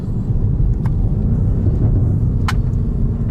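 BMW M5 Competition F90 warming its tires before a launch in second gear with two-wheel drive, a loud, steady low engine rumble with a couple of brief sharp squeaks.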